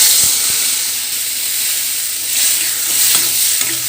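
Cooked dal being stirred into a hot, sizzling tempering for spinach dal, a steady loud frying hiss with occasional soft stirring scrapes and pops.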